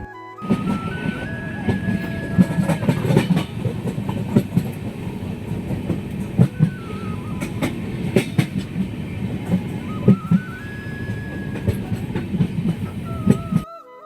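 Passenger train on a long-distance run from Kolkata to Kerala, heard from inside the carriage: a steady, loud rumble with rhythmic clickety-clack of wheels on rail joints and occasional thin whining tones, with no voices.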